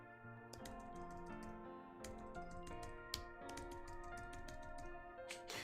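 Quick clattering keystrokes on a computer keyboard, typed while editing wedding photos in Lightroom Classic, with rapid uneven bursts and single clicks close by over a faint background of music.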